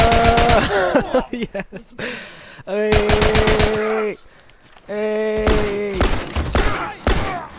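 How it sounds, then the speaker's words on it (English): Assault rifle gunfire in a video game rattles out in several short bursts separated by pauses, loud and close, mixed with game sound effects and a voice shouting. "I'm just going to go around here and shoot them all with my assault rifle."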